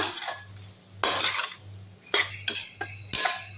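A spoon scrapes and clanks against a pan while stirring a drumstick flower and drumstick stir-fry, in several short bursts, with quiet stretches between strokes.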